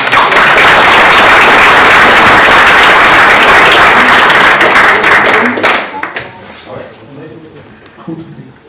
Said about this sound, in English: So I will ask for a warm hand for Robert Swimmer.